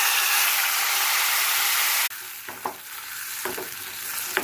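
A spice paste of green banana peel sizzles loudly in hot mustard oil with nigella seeds, a steady frying hiss for two seconds that drops to quieter scraping and stirring clicks from the spoon.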